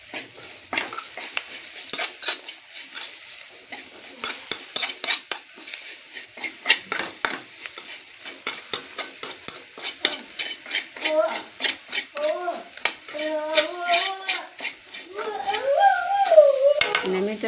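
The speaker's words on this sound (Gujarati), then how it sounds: "અને હવે આપણે હલાવી નાખીશું." Red chili powder being stirred into spiny gourd curry in a pan, with repeated scraping and clinking of a spoon against the metal and a soft sizzle underneath, continuing steadily throughout.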